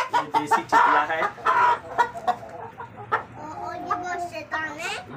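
Desi chitla chickens in a small rooftop cage cluck loudly and close by in rapid, repeated bursts, with some squawks and a brief crow-like call.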